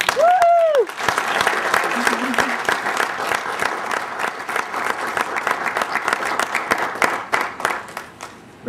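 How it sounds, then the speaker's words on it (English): An audience applauds an award recipient at a motorsports press banquet, with a quick whistle and a few cheers at the start, then steady clapping that thins slightly toward the end. "how about giving him a great round of applause?"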